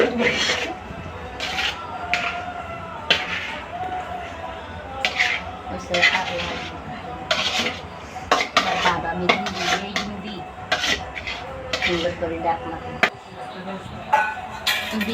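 Chicken biryani is stirred in a metal pot, with repeated scraping and clinking of a utensil against the pan in an uneven rhythm, heard close and moderately loud.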